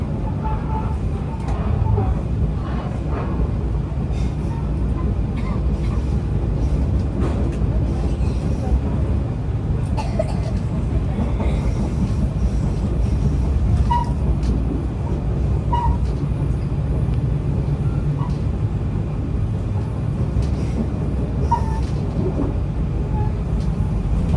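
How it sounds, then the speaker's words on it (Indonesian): The Ciremai train rumbles steadily along the tracks, slowing to stop at Cimahi station, with low, continuous wheel and carriage noise, occasional clanks, and a person talking under it. "kereta api Ciremai ini persiapan berhenti di stasiun Cimahi"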